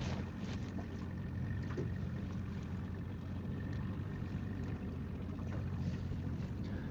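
Steady wind roars over an open lake around a fishing boat, a constant, loud rushing with no talk.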